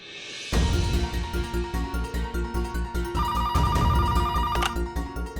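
A telephone rings in a steady repeating electronic pattern, loud and close, with a bright higher tone joining partway through; no one speaks.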